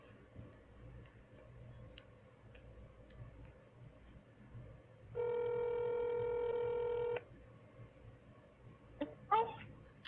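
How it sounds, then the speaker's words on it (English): A Samsung Galaxy S7 Edge mobile phone rings with a loud, steady electronic tone lasting about two seconds, followed by a couple of short clicks, over a quiet room background. "Right, that was my phone."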